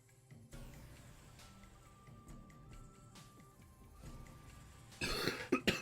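A person coughs sharply near the end, a short loud burst with throat noise after a stretch of quiet room sound and faint background activity.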